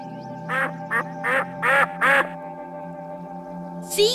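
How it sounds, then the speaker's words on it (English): A duck quacks five times in a steady rhythm, loud and close over a constant background hum, and one last brief call comes at the end. "Duck."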